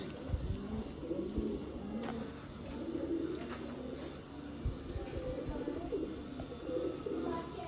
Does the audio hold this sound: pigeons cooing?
yes